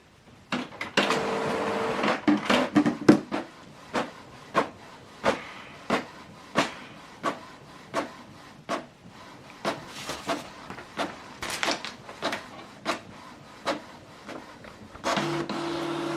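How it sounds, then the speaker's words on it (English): A Canon PIXMA TS7750i inkjet printer running a double-sided print job, with a whirring feed at the start, then a long run of evenly spaced sharp clicks as the page passes through, and a closing motor whir, close by with no talking. "So it's going back in to print the second page."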